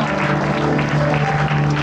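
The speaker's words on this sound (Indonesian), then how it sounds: "kita berikan tepuk tangan" Steady applause fills a church service, a loud, continuous wash of many clapping hands.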